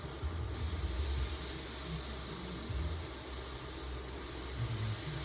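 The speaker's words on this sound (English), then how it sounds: "Can you hear that sizzle?" Deer meat sizzles on a grill with a steady, moderate hiss and crackle, heard alone without speech.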